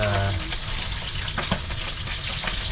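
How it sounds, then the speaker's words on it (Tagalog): Steady hot-oil sizzling and crackling of fish frying in a pan, continuous and close, with a few sharper pops and faint clatter. "Prito-prito lang. Paprito-prito lang tayo."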